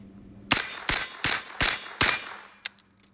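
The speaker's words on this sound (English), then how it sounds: "Bolt closed. Did not lock back. Magazine drops freely." Diamondback DB9R pistol slide slamming shut, followed by the empty magazine dropping free: five sharp metallic clangs about a third of a second apart, then a lighter clatter and a small tap, close and loud with no talking.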